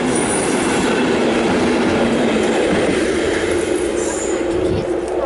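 A train passes close by in Northern Ireland, a loud sustained rumble with clattering wheels and a faint high squeal that stays steady throughout.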